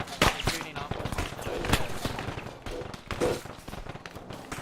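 Bursts of rifle fire in an Arma 3 military-simulation battle around a building, rapid cracks and rattling volleys at middling distance, mixed with voices talking over the fighting.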